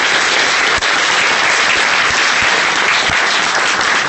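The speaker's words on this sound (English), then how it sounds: "could you do me a favor and give an applause and an appreciation for this space?" Loud, sustained applause from a lecture audience in a facility, a dense steady wash of many hands clapping with no talk over it, holding evenly for the full stretch.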